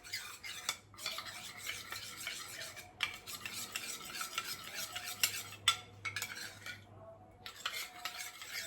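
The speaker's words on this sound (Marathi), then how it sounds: "इकडे छान आता हे मिक्स करून घेते" A spoon stirs almond shake mixture in a pan over a low gas flame, making steady scraping and clinking strokes. A faint low hum sits underneath, and there is no talk.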